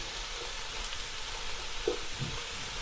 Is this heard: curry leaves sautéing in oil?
yes